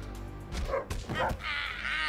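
Dogs bark and yip in the video game South Park: The Fractured But Whole, several short yelps in quick succession mixed with game effects, with a voice talking over them.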